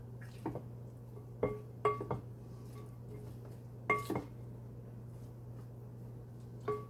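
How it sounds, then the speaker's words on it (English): A spoon scrapes and clinks against a bowl while stirring garlic into a pasta and broccoli salad: scattered sharp clinks, close and fairly quiet, over a steady low hum. "So just stir all of that up"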